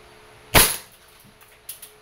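A WE M92 airsoft pistol, Taiwanese-made, fires a single sharp, loud crack followed by a brief decay, then a couple of faint clicks near the end.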